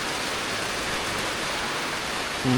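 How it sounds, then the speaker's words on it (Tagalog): Rain arriving over a farmyard ahead of a typhoon, a dense, even hiss of falling water that stays steady throughout, with a brief low sound near the end. "Ay mga karudoy, ulan na, inabutan tayo dito."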